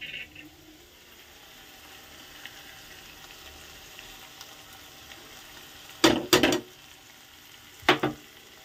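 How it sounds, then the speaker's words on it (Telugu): Chopped tomatoes fry in a pan, giving a faint, low sizzle that is nearly silent for several seconds, then a few short scraping stirs near the end. "టమాటా 3 వేసి నీట్గా ఫ్రై చేసుకుంటాను."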